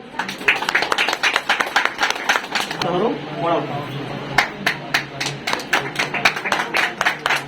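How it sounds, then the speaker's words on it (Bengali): Guests clapping at an engagement ring ceremony, brisk rhythmic hand claps from a small nearby group that pause briefly while people talk and then resume. "হাততালি সবাই"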